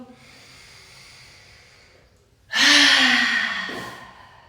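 Slow, deep meditative breathing: a quiet drawn-out inhale followed by a loud, close, airy exhale that gradually fades, with no talking.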